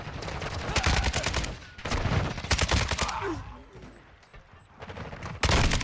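Rapid automatic gunfire from a Kastov 762 rifle in Modern Warfare 2 multiplayer, with several loud bursts of sustained fire separated by brief lulls and a final sharp burst near the end.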